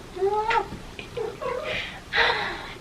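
A cat meows close by in several rising, drawn-out calls, with a few shorter, breathier cries between them in a quiet room.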